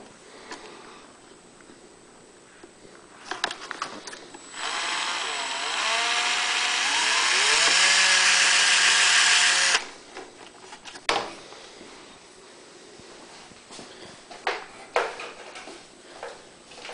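A power drill boring a 1/16 inch hole for a choke return spring on an EU2000iS generator, a rising whine lasting about five seconds, with handling clatter before and after.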